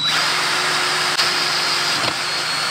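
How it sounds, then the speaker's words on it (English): A DeWalt power drill with a built-in light bores a fuel tube hole while a diesel heater is being installed in a truck sleeper, whining steadily and loudly close by for the whole stretch, with a brief dip near the middle. "Now we are gonna be drilling the fuel tube hole. This DeWalt with the light on it sure does help."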